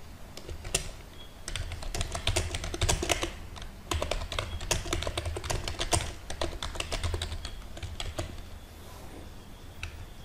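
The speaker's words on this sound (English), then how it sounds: "Now you can type your question." Rapid typing on a computer keyboard while writing in Microsoft Word: dense, uneven bursts of close keystroke clicks that run almost without pause, with a few slightly louder taps.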